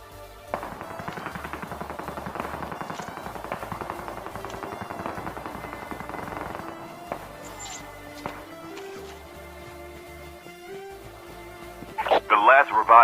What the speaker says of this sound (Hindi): इधर के साइड से फायरिंग के साउंड सुनाई दे रहे थे